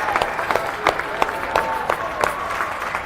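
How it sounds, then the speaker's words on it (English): Parents clapping for a finalist youth team after a tournament match between Arapahoe Warriors and Littleton, steady close applause with sharper individual claps standing out, a light crowd murmur underneath. "We're going to carry our little finalist banner around and get clapped off by the parents."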